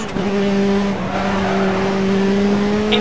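Rally car in the Dirt Rally video game sliding its rear end on gravel, a steady engine drone with a held tonal whine and continuous loose-surface rush, loud and close throughout.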